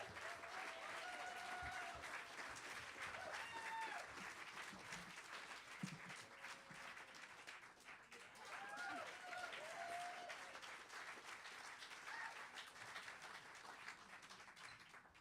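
Applause from a concert audience welcoming a singer-songwriter, soft and steady throughout, fairly distant, with brief musical tones and voices over it.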